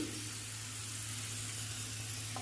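Raisins frying in hot ghee in a pan for semiya payasam, giving a steady, soft sizzle with a low hum beneath it and no talking.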